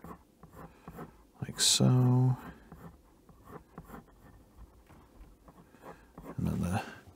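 Pencil sketching a small rim onto paper, soft scratchy strokes in short bursts, close and quiet, with a person speaking softly over it.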